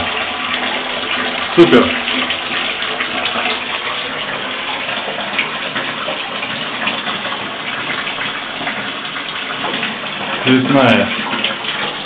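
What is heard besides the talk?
water running from a tap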